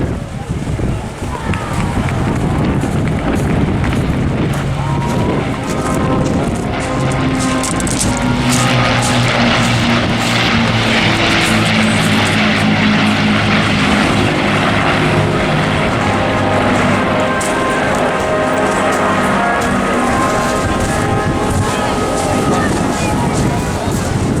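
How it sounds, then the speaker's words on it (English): Propeller aircraft of the Battle of Britain Memorial Flight pass over an airshow at Eastbourne, a loud, sustained engine drone that swells in the middle with a shifting pitch. Wind noise runs throughout. "a poignant moment to welcome the Battle of Britain Memorial Flight"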